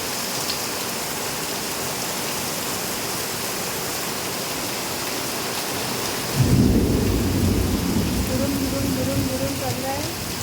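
Heavy rain pours in a steady broadband roar with distant thunder rumbling in the background, and a voice speaks over the downpour in the second half.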